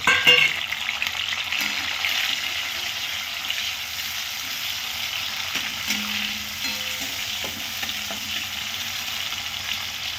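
Tomatoes sizzle and fry in a hot pan for a Maharashtrian drumstick curry, a steady close crackling hiss with occasional stirring scrapes and a louder burst at the start; no talking.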